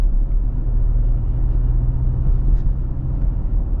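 A lifted 2024 Toyota Tacoma driving around town, heard as a steady low engine and road rumble from inside the cab, with no talking.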